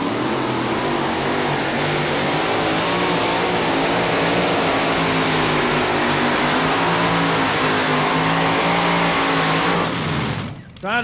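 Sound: Hemi-powered Chevy-bodied two-wheel-drive pulling truck engine revving

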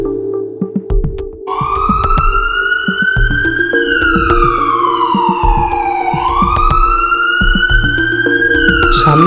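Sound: ambulance siren sound effect in audio story

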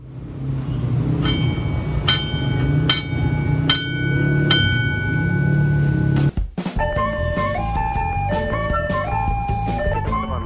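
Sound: passenger train passing crossing

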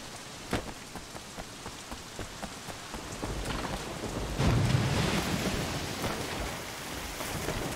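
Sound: rain in video game Sleeping Dogs

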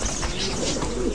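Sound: tumbler pigeons cooing

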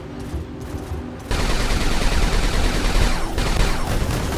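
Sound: robot cannon gunfire in War Robots video game

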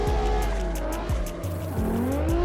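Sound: car turbo blow-off valve in video game

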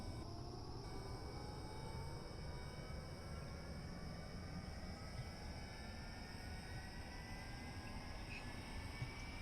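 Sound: A-10 jet engine running, video game

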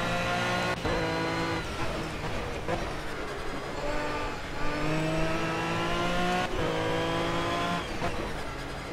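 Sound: race car engines in Project CARS video game at Nurburgring

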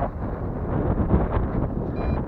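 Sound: wind blowing during drone flight

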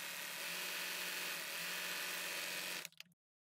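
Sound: serger sewing ruffles in knit fabric

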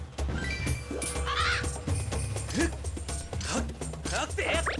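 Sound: birds cawing in Zelda: Skyward Sword video game

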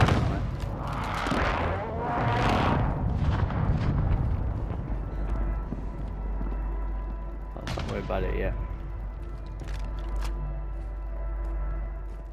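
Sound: gunfire in a Warzone video game match

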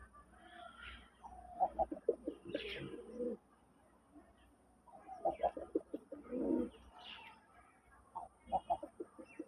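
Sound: pigeon cooing

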